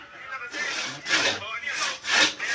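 A handsaw rasps back and forth through hard kakawate wood, cutting firewood, in four or five rough, rhythmic strokes, loud and close.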